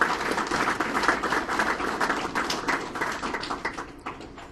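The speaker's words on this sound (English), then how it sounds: "Please give yourselves a big round of applause." A high school football team applauds at a U.S. Army All-American selection ceremony with a burst of close, lively clapping that gradually thins out toward the end.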